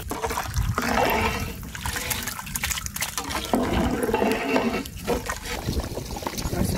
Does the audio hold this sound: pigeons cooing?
no